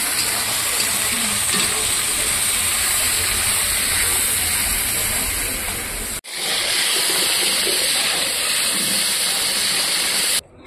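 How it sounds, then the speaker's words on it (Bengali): Mixed vegetables frying in hot oil with a little salt, a loud dense continuous hiss like rushing water, briefly cutting out once before resuming, with no voices. "সবজিগুলো শুধু আমি লবণ দিয়ে ভেজে নেবো"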